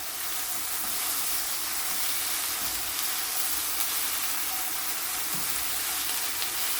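Ginger garlic paste frying with onions in a pan for pepper chicken hisses in a continuous, loud, even sizzle from start to finish, with no talking over it.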